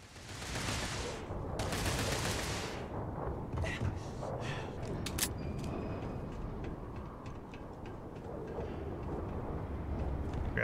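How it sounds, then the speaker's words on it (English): Pistol shots ring out in the video game Starfield in survival mode, a string of sharp, fairly faint cracks spread over several seconds beneath steady background noise. "Fine, I will shoot you with my pistol from up here."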